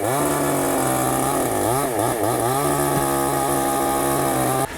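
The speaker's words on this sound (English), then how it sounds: "The Pampanga chainsaw tree massacre." A chainsaw felling trees roars loudly and continuously, its pitch wavering up and down as the engine revs while cutting, then cuts off at the end.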